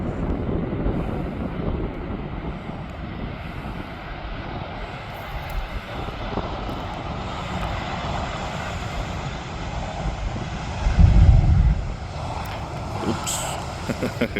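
A Transavia Boeing 737 comes in to land, its jet engines a broad steady roar that swells and rumbles louder near the end, heard from a distance outdoors.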